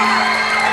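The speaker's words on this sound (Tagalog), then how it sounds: "Sige, tumili kayo!" A studio audience of children and adults at a televised kids' talent show screams and cheers in one loud, sustained burst of shrill voices.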